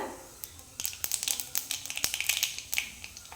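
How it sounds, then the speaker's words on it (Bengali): Black cumin seeds are dropped into a little hot oil for tempering and sputter and crackle in quick, irregular pops. The sound is close and fairly quiet. "তেল আমার গরম হয়ে গেছে এবার ফোড়নে দিয়ে দেবো কালো জিরা"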